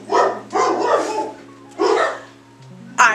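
Dogs bark in loud close bursts, several sharp barks in a row, then a pause before another bark and a short higher yip at the end, with no voices.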